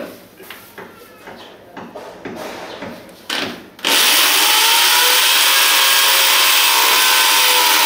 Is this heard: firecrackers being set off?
no